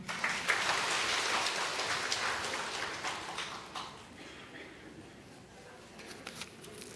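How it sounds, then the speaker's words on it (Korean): A church congregation applauds during a Sunday service, a dense patter of clapping that swells at first, then thins and fades to scattered claps. "박수 한번 쳐주세요."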